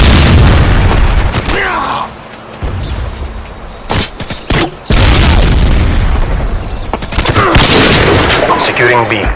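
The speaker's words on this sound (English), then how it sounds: "Friendly predator missile inbound." Predator missile strike in a Call of Duty-style game on the Wasteland map, with loud booming explosions and bursts of gunfire crowding the mix, sharp breaks around the middle and dense combat noise throughout, alongside game announcer voice lines.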